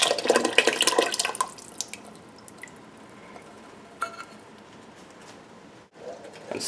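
Water pours into a pot for lentil soup, a short splashing burst at first that fades into quieter trickles and drips.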